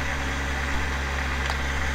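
A repulsion pulse motor spins steadily at around 4200 RPM, giving a continuous, fairly loud whirring drone with an even, unbroken tone and no speech.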